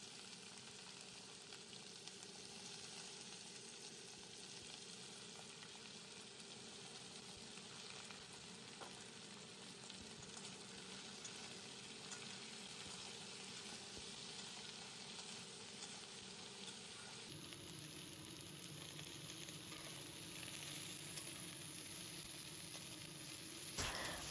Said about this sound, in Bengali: তার সাথে ডাঁটাটাও দিয়ে ভালো করে লাল করে ভেজে নেব